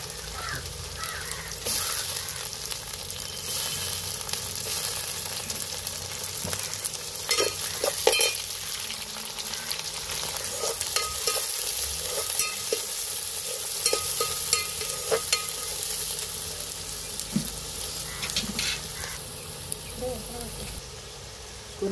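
Chopped onions frying and being stirred in a pan while an egg and raw prawn curry is prepared, giving a steady close sizzle with scraping clatters throughout, faint voices now and then.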